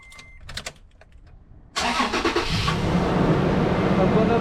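A 2010 Toyota Tacoma engine cranks and catches after a quiet pause, then settles into a steady, loud idle close by, following a few faint clicks and taps during a brake-job repair.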